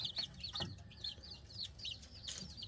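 Red junglefowl chicks, four of them kept with their father, give a steady run of soft high peeping and clucking calls, close and continuous over low background noise.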